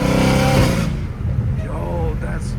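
Inside a straight-piped Dodge Hellcat Redeye, a loud engine roar fills the cabin and then settles into a steady low rumble, with someone talking over it.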